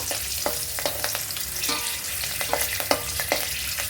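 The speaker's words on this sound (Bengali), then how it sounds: "পাকা লঙ্কাটা যখন একটু হালকা ভাজা হয়ে যাবে তখন আমি এই তেলেতেই দিয়ে দেবো" Ripe red chillies and a little cumin sizzle in hot oil, a steady frying hiss broken by frequent sharp crackles and pops, close up with no talking.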